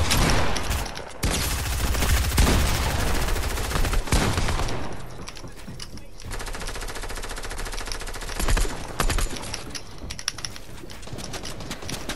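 Sustained automatic gunfire in the video game Fortnite, loud rapid bursts rattling almost without pause, with brief gaps and a heavy impact partway through, accompanied by mechanical clicking.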